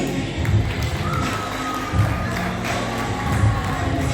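Graduation ceremony audience applauding and cheering for a graduate walking on stage, a thick wash of clapping and crowd noise with periodic low thuds, steady and loud throughout.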